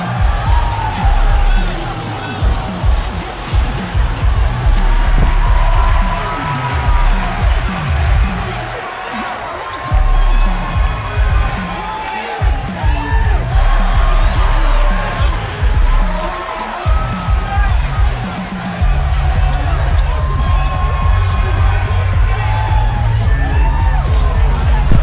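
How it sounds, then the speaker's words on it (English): A wrestling crowd at a live event cheers and shouts for a fan favourite, loud and continuous with whoops and swells, while a commentator talks over the noise throughout. "As you can hear the crowd cheering for Dakota Fall, he is definitely a fan favorite"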